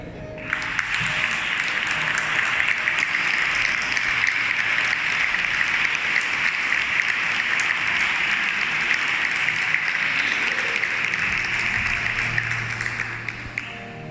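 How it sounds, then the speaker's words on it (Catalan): Sustained applause fills the hall at a Fallas queens presentation in Valencia, a steady, even wash of many hands clapping that holds at constant loudness throughout before easing off at the very end. "aplaudiment."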